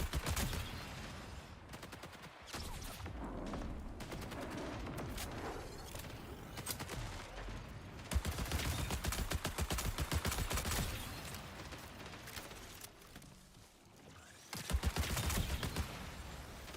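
Dense gunfire from the video game Marathon, with rapid automatic bursts and single shots rattling almost continuously, some sounding close and others farther off, with louder volleys near the middle and end.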